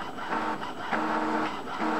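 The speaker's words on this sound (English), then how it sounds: "And it prints it that way." An Epson ET-2850 inkjet printer feeding and printing an envelope, a close mechanical whir with rhythmic printhead passes, alone with no talking.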